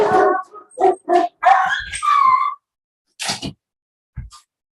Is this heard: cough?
no